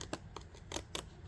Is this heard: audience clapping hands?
no